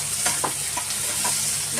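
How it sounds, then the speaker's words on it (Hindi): Onions frying in hot oil for stuffed bitter gourd, a steady close sizzle with a few soft stirring scrapes, no voices. "ये देखें ऑयल गर्म हो गया, मैं डाल रही हूँ अनियन।"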